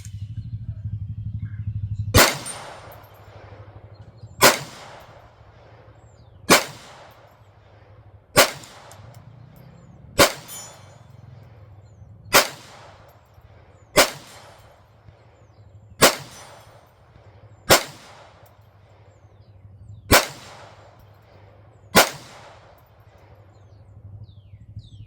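Sharp pistol shots from Kel-Tec P32 and P17 handguns ring out one at a time at a steady, unhurried pace, about a dozen crisp reports spaced roughly two seconds apart over a low outdoor hum.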